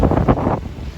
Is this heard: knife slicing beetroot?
no